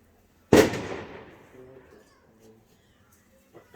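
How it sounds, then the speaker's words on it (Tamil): Firecrackers set off during a head-shaving ceremony, with one sharp, loud burst that rings out and decays over a few seconds, followed by faint scattered pops and background voices. "பட்டாசு வெடிக்கிறாங்க"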